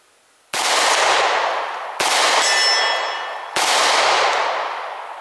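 Three loud pistol shots ring out at a shooting range, fired at a target from 5 yards, each a sharp crack with a long, ringing decay and about 1.5 seconds between them.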